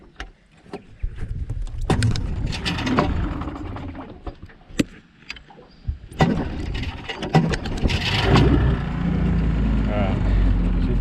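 An old, unreliable boat engine on a wild Cape York river sputters through several attempts before catching and settling into a steady, close, low running rumble, with people talking over it.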